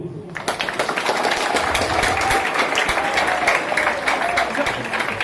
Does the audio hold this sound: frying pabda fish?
no